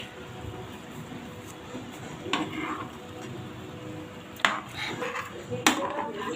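Cooked macaroni is stirred in a pan, heard as a few light scrapes and clinks of a utensil against the pan over a low, steady background hum.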